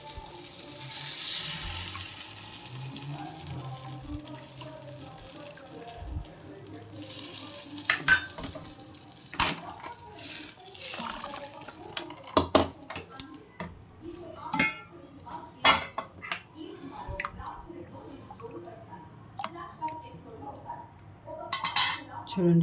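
A spoon stirs fried onions into Muslim-style dalcha in a metal pot. Scrapes and clinks come at irregular intervals over a low steady sizzle, close and moderately loud.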